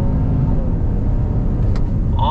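A 2022 Genesis GV70 SUV accelerates from a slow roll in Sport Plus mode, its engine a loud, close, smoothly building rumble with a rising tone near the end.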